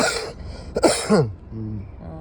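A person with an untreated cough gives a couple of short, rough coughs or throat-clearing bursts close to the mic at a petrol pump in Gujarat, followed by quieter low murmuring.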